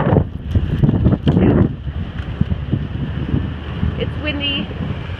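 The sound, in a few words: wind blowing on a hiking trail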